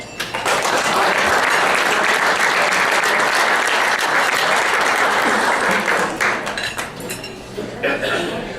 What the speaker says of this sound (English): So Kathy, clap her in.